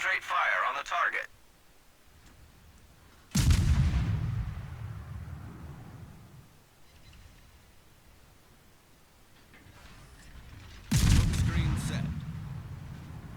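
Naval gunfire from a destroyer in a warship video game, with two loud heavy booming salvos about seven seconds apart, each decaying into a low rumble, followed by a quieter sustained low roar.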